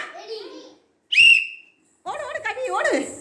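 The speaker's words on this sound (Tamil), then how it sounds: "teacher whistle ஊதுவேன்" A teacher gives one sharp, piercing whistle blast to start a children's running race, set between bursts of excited children's voices before and after.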